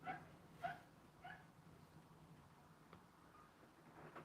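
Dogs from nearby kennels barking and yipping faintly at a distance, a few scattered barks in quick succession against a quiet indoor background.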